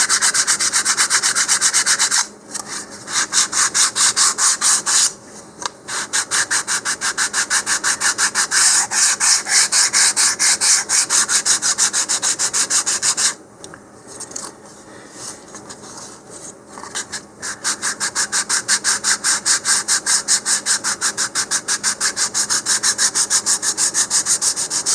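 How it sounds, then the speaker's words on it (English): Steady, loud sanding of a wooden model rocket part, a continuous rapid rubbing scrape with a few brief pauses, close up and with no talk. "You could also use a small emery board or even a small sanding rod in there."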